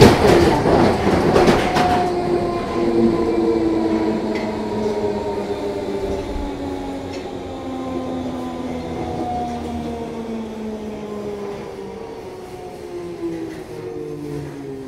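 A London Underground 1972 Stock train on the Bakerloo line runs steadily with a low rumbling drone, rising and falling motor tones, and faint rhythmic clatter of wheels, loud and close throughout.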